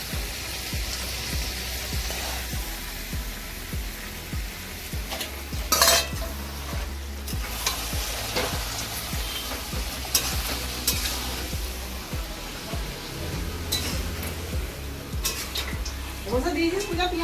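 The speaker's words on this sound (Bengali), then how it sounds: "আর এদিকে শাশুড়ি মা বানাচ্ছে পাঁপড় ভাজা।" Papad fries in hot oil in a pan with a steady crackling sizzle, punctuated by scrapes and clinks of a utensil against the pan and occasional voices in the kitchen.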